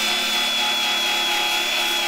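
Grinder cutting through spot welds on a steel car body panel during dent repair, a loud, continuous high-pitched abrasive whine and hiss held steady from start to end, close by with no speech.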